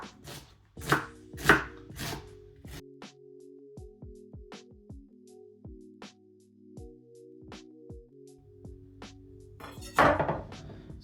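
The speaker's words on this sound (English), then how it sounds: "we'll chop the onion for the actual minced meat mix" Knife chopping an onion on a board, a quick run of sharp close chops at the start and another cluster near the end, separated by quieter clinks and a low background hum.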